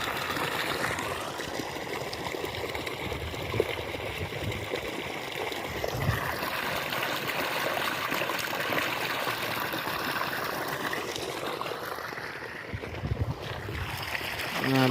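Irrigation water pouring from a pipe into a tobacco field, a continuous gushing trickle and splash that holds steady close by, without any talk over it.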